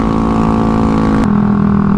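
Honda Ruckus scooter engine running steadily and loudly up close as the rider sets off, a constant buzzing drone whose pitch shifts slightly partway through.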